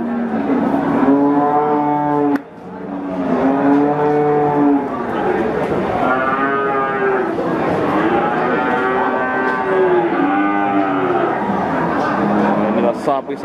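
Jumbo cattle at the Wirosari cattle market in Grobogan low in long, loud, overlapping moos close by, with a brief pause and people talking underneath.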